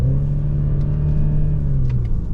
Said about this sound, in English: I'm going to change the gears, go down the gears